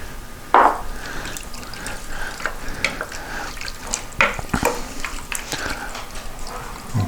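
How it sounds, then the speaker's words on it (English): A cup of water is poured into a pot of Brunswick stew with pulled pork, chicken bouillon cubes and potatoes: a steady liquid splash with a sharp opening gush, then a continuous pouring and bubbling texture. "And we'll start with about a cup of water."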